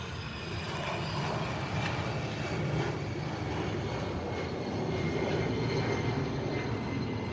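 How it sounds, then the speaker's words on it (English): Steady, broad roaring rush of an airplane landing on a wet runway at Manchester Airport, with a hissing spray-like texture of water rushing off the tyres throughout, fairly loud and continuous with no voices. "That's making a very fuzzy sound, that plane. I guess like the water rushing off the tyres."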